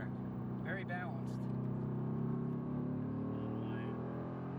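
A Mercedes-AMG GT R sports car drives on a race track, its engine holding a steady, close droning hum throughout while people talk over it.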